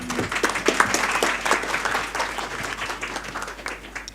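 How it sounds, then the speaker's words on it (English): Audience applause at a graduation ceremony on a Bangkok campus, a dense, steady wash of many hands clapping that carries on for the whole stretch without speech. "let's give it a big round of applause"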